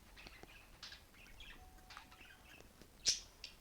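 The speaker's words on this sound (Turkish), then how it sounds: "Arkadaşlar arkadan kuş sesi gelebilir. Kuşum var." Faint bird chirps and tweets in a quiet room, a few scattered short calls with one sharper, louder chirp near the end.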